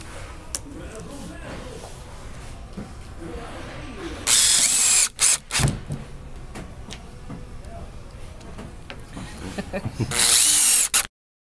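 A power drill drives screws into a hinge on a Super Chexx table base, with two loud whirring bursts of the motor and short stops between, set against a quieter stretch where a voice talks.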